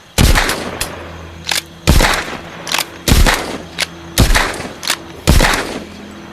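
A handgun fires repeatedly in the VR game The Walking Dead: Saints & Sinners until the magazine runs empty, giving loud, close shots in an irregular rhythm with booming tails and short gaps between them.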